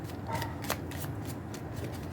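Tarot cards are shuffled and drawn, giving soft, close riffling flicks and light slaps in a quiet room with a faint background hum. No one speaks.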